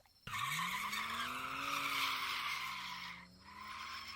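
A car's engine surges and its tires squeal in a long, loud skid, a sound effect inside a spoken horror story, the screech wavering in pitch for several seconds before briefly dipping and resuming, with no talking over it.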